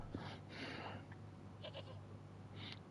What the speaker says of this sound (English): Get it up, you goat.